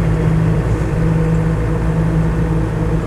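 A steady drone fills the cabin of a moving Land Rover 110 County station wagon with a 200TDi diesel: a constant tonal tyre whine over a low engine rumble, loud and unbroken throughout.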